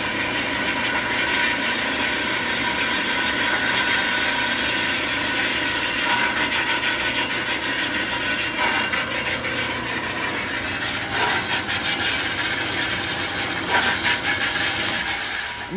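A cheap hydraulic horizontal bandsaw cuts steadily through metal, a loud continuous rasping drone with a few faint bumps along the way, with no talking.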